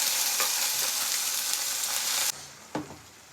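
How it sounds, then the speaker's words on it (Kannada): Ginger fries with a steady, loud sizzle in a pan while being stirred; the hiss cuts off abruptly partway through, followed by a couple of sharp scrape-and-clatter sounds from the spoon against the pan. "ಕ್ಲೀನಾಗಿದ್ದು ಬ್ರೌನ್ ಶೇಡ್ ಬರೋ ತನಕ ಫುಲ್ ಹತ್ತಿಸ್ಬಿಡು"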